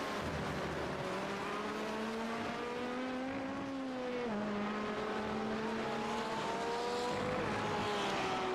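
Race car engine in a racing video game approaching the second chicane after the Mulsanne Straight during a 24-hour endurance race, a sustained high whine whose pitch climbs then steps down with gear changes, steady and loud throughout.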